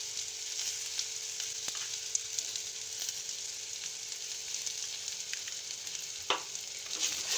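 Spices with turmeric being stirred in a frying pan, giving a steady soft sizzle with scraping stir strokes and a sharper knock near the end, no talking.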